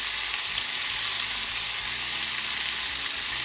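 Steak sears in a tight-fitting frying pan, giving a loud, steady sizzle and crackle heard up close and alone.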